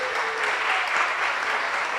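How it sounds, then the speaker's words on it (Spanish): Audience applause welcomes a festival programming chief joining a film and television panel, a steady dense clapping that fills the room from start to finish with no voices above it. "Quiero que recibamos con un aplauso a Pedro Adrián Zuluaga,"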